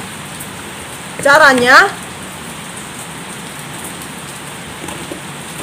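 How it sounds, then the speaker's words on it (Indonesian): Rain falls steadily outside as a constant broadband patter under the whole stretch, with a voice briefly speaking over it. "kalau agak ribut, karena di sini lagi hujan ya"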